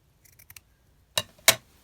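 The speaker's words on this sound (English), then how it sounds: "let me just ink up a little bit more of that section of lace and then just cut it down" Scissors snip through a section of lace for a junk journal cluster, a few faint small clicks followed by two sharp, close cuts with nobody talking.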